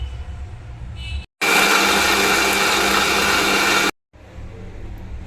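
A mixer grinder grinding chutney with a little water switches on after a short pause and runs loudly for a few seconds before stopping, with quieter background noise around it.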